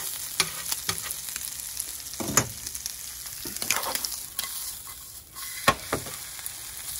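Ham and bacon browning in a hot frying pan: a steady crackling sizzle broken by repeated clinks and scrapes of a utensil moving the meat, with no talk.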